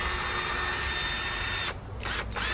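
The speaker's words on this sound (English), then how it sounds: "My drill does make a better motor." A power drill serving as the motor of a bubble machine whirs steadily and loud and close, then cuts out briefly twice near the end before spinning back up.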